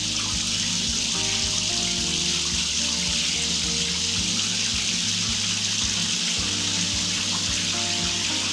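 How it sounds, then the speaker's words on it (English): Water from a tap pours steadily into a bathtub while a pop-up waste and overflow is being tested, a loud, continuous close gushing rush with no pauses and no talk. "Put some water in."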